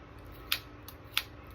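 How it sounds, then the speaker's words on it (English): Scissors make small cuts in pantyhose, giving three short, crisp snips spaced apart over a quiet background. "Some of these pantyhose can be a little challenging to cut, but just nice small cuts"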